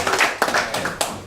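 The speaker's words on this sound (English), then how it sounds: "can I get a round of applause for him real quick?" A small room audience at an evening meetup in Minneapolis gives a short round of clapping, a few sparse, sharp claps from nearby hands over about a second.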